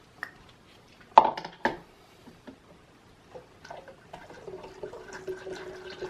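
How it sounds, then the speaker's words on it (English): Water poured into a container while making mead: a few sharp splashy bursts early, then a steadier running pour with a rising tone as the vessel fills, fairly close and moderate in level with no talking. "I'm going to add some more water to this."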